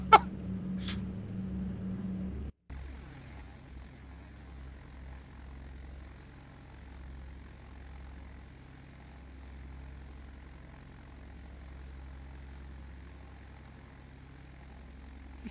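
Douglas C-47 twin propeller engines droning steadily in the FSX flight simulator game, a constant low hum sustained throughout after a couple of brief clicks and a momentary dropout near the start.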